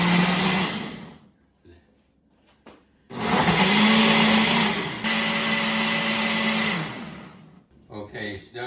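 A blender whirs loudly as it blends a berry smoothie, short bursts at first, then a sustained high-pitched run of several seconds that drops slightly in pitch before cutting off, followed by brief talk.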